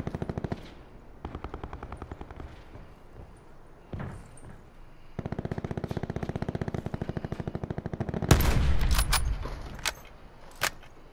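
Automatic gunfire in Call of Duty: Black Ops 4, rapid sustained bursts separated by short pauses, ending in a cluster of louder sharp shots and impacts.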